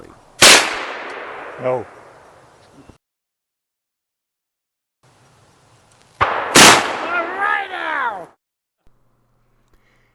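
Two loud black powder gunshots crack outdoors at swinging pancake targets, each followed by a rolling echo, with a brief spoken word and long quiet gaps.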